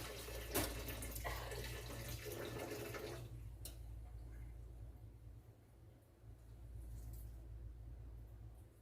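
Boiling water is drained off a pot of cooked turkey breast, a rushing splash for about three seconds that tapers into a faint trickle over a low steady rumble.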